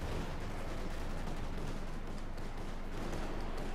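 Panzer cannon and flak half-track fire in the video game Company of Heroes 2, a continuous roar of overlapping shots and blasts at steady high loudness, with no speech.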